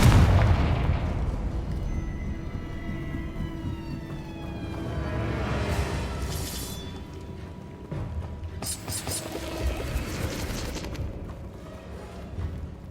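Fiery spell explosions boom in a Hogwarts Legacy battle, with heavy low rumbling blasts, whooshing bursts and swelling magical effects layered over game music, sustained and loud throughout.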